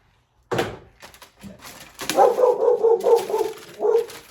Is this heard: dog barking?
yes